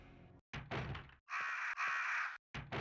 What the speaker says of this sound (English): Why are they making crow sounds?